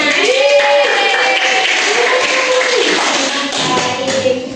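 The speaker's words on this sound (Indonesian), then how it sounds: "tepuk tangan." Schoolchildren in an elementary classroom clap their hands together in a dense, continuous burst of applause, loud and close amid a busy room.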